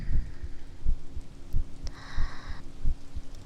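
A slow, steady heartbeat sound effect thumps in low, soft double pulses, close and muffled, with a brief faint high tone drifting in partway through.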